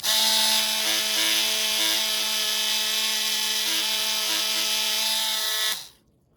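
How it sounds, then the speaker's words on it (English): Wire wheel on a power tool cleaning tarnish and gunk off a snowmobile kill switch contact, a loud continuous high whine with steady tone that spins down and stops near the end. "remove that tarnish and gunk with a wire wheel or a wire brush"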